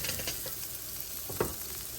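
Pasta sizzles and fries steadily in a Lodge cast iron pan on a burner, a soft continuous crackle with a brief stir or scrape near the end.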